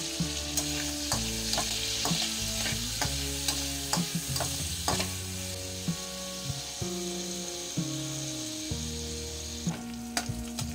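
Onion, garlic and ginger sautéing in a pan for milkfish steak, a continuous loud sizzle broken by frequent scrapes and taps of a utensil stirring, up close with no speech.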